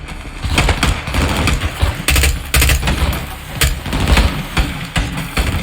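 Loud automatic gunfire from the Call of Duty: Modern Warfare 2 video game, played on Realism difficulty, comes in rapid, dense bursts close up over a rumbling engine-like drone, with short gaps between volleys.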